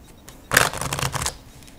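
A Hoyle deck of plastic-coated playing cards is riffle-shuffled once up close, a quick crisp flurry of snapping cards lasting under a second.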